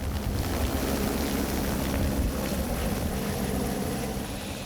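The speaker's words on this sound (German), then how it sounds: "Direkt vor der Hütte kann man mit dem Heli nicht landen." Steady, loud rotor-and-engine drone of a helicopter near a glacier landing site in snowy Swiss mountains, with wind noise, continuous throughout with no talking.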